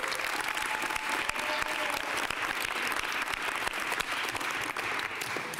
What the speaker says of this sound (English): Let's all give Giselle a big round of applause and thank her.